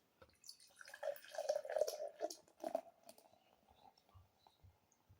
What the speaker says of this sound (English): We'll pour it into the old pint glass.